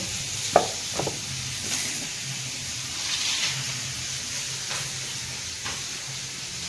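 Fish fries in a pan with a steady hiss and sizzle that runs all the way through, and a few soft clinks and utensil taps sound near the start.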